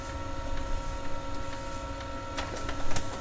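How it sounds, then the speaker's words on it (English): The scanner head of a laser printer slides along during a copy, producing a faint, steady mechanical hum with light ticks and clicks close by. "So there's the scanning head moving."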